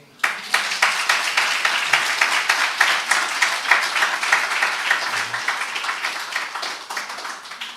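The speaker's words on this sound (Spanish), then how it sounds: "Den un aplauso al Señor." A church congregation claps together during a Spanish-language worship service, a rhythmic, fairly loud run of hand claps that starts abruptly and continues steadily before tapering slightly.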